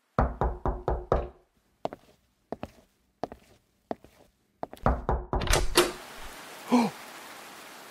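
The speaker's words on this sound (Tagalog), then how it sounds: "Pero bago pa man, may kumatok." Several sharp knocks on a door come in quick bursts with pauses between them, followed by a door creaking and shuffling movement.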